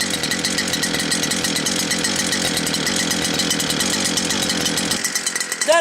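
A Stihl FS 260 professional brushcutter engine runs loud and close in a steady high-revving two-stroke buzz, then drops sharply toward idle near the end.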